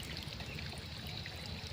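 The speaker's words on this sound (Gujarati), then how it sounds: "મેરુ કાકો જો પાણી ભરે છે" Water pumped by a motor pours steadily, a faint continuous rush and trickle with a low hum beneath, unbroken and alone without talk.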